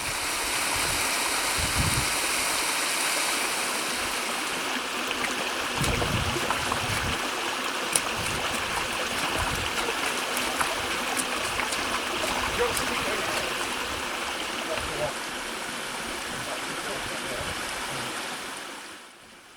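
Water from an underground stream in Alum Pot cave rushes in a steady, loud wash that fills the whole stretch without a break, with a few brief splashes along the way.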